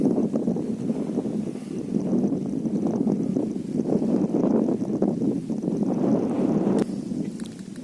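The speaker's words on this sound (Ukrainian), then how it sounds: "Було тихо, зробився вітер." A steady, loud rumble of wind buffets the microphone beside a large village pond, low and continuous with gusty flutters, and no one speaking.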